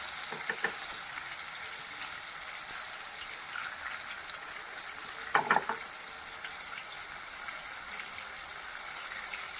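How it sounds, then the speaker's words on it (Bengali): Chopped tomatoes hit a hot pan for a vegetarian potato-paneer dish, setting off a steady, close, hissing sizzle and fry that runs throughout, with a few brief stirring clinks in the middle. "এবার এর মধ্যে দিয়ে দেবো আমি যে টমেটোগুলো কেটে রেখেছি সেটা দিয়ে দেবো"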